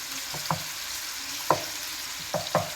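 Fish frying in a pan for biryani, a steady close sizzle broken by several distinct scraping and tapping strokes as the pieces are turned.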